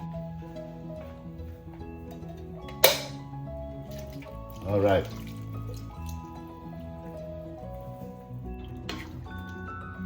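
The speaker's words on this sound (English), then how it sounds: "Let's put some water in there." Water is poured into a cooking pot of shrimp with string beans and squash in coconut milk, a short splashing burst midway over a steady tonal background, with a voice speaking briefly.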